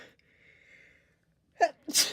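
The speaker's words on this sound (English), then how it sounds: "excuse me, I'm gonna sneeze" A single loud sneeze close by, a sharp inhaled catch followed by an explosive burst, after a faint quiet hum.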